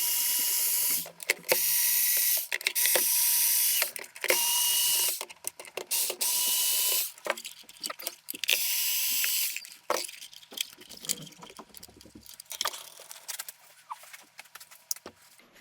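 A small powered screwdriver backs out six screws from a Spypoint Flex S trail camera casing, with repeated whirring bursts and ratcheting clicks between pauses, then lighter handling clicks and rattles close up.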